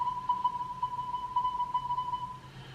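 Morse code beeps sound as a steady high electronic tone, keyed in short and long pulses almost without a break, faint and alone.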